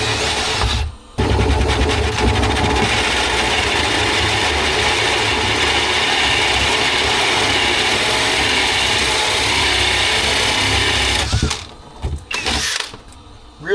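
A drill bores a hole through a wooden kitchen cabinet with a hole saw bit, a loud grinding, chattering whir held steady for about ten seconds, with brief stops and restarts at the start and end.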